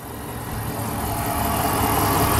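A 2010 Jeep Commander Limited with a 5.7-liter Hemi V8 idles close by, a steady low rumble with broadband mechanical hiss that grows slightly louder over the few seconds, with no voices.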